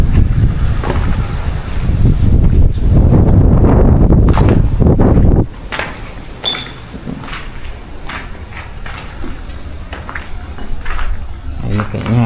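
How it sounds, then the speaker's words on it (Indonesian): Strong gusting wind at an abandoned, vandalised Islamic center buffets the microphone with loud, heavy roaring for about five seconds, then drops to a lighter, steady breeze with a few gusts. "Di sini anginnya sangat kencang ya."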